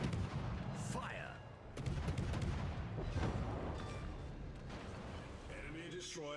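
Naval guns firing in the World of Warships video game, a series of booming shots and crackling gunfire over a dense rumbling battle background, with game voice lines heard alongside.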